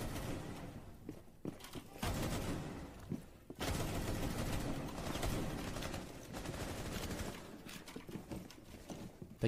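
Gunfire in the Rainbow Six Siege video game, with bursts of rapid shots and tapped single shots coming in dense loud clusters and then brief gaps, while a player's voice is heard between them.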